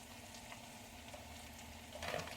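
A chunk of queso cheese melting in a hot frying pan, giving a soft, steady sizzle that swells slightly near the end, quiet and close with no talking.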